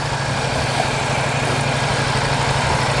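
A 2021 Ducati XDiavel Dark motorcycle engine on its stock Euro 5 exhaust, a loud, close, steady rumbling drone with dense low-end throb, running continuously with no talk over it.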